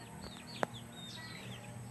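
A mother hen clucks among chicks and birds chirping nearby, soft background calls with a single sharp short click, faint and outdoors.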